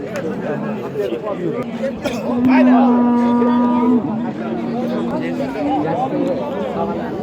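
A cow gives one long, drawn-out moo at a busy livestock market in Özgön. The call rises over a steady background of crowd chatter and nearby talking.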